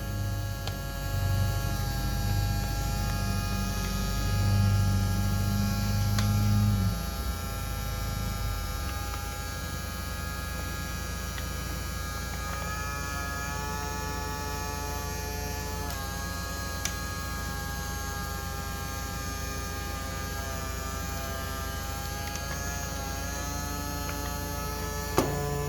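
A vacuum pulls air out of a 3D printer enclosure on a Qidi X Plus 3, giving a steady droning hum with a deeper rumble for the first several seconds that then settles into a continuous whine at even loudness.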